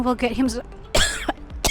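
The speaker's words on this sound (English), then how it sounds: "having a coughing fit." A man walking through Sydney's CBD is caught in a coughing fit from hay fever, with a couple of sharp, harsh coughs close to the mic, broken up by a brief spoken phrase.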